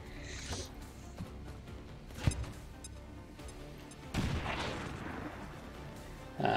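Combat in the video game XCOM 2: a sharp gunshot rings out mid-clip, followed by a rumbling explosion burst and then another loud blast near the end, over faint background noise.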